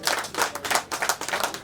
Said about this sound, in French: Je vais vous supplier, mesdames, messieurs, d'applaudir le docteur Maître